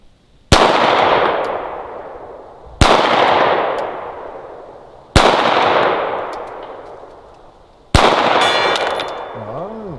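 Four loud gunshots fired at a target outdoors, evenly spaced about two seconds apart, each a sharp crack followed by a long rolling echo that decays before the next shot.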